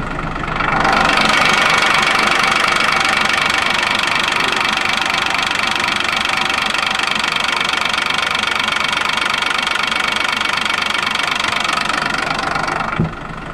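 An Isuzu diesel engine with 135,000 miles idles with a loud, steady clattering knock, running evenly for about twelve seconds before cutting off near the end.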